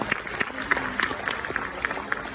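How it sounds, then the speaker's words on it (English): An audience at an interview event breaks into applause: scattered, distinct claps with a light crowd murmur beneath, steady and moderately close throughout. "Give her a round of applause."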